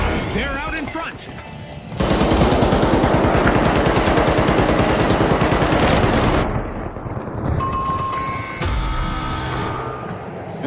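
Weapon fire in the arena shooter The Finals, a loud rapid volley of shots dominating the middle seconds, framed by quieter game noise, with a commentator voice and tonal effects toward the end.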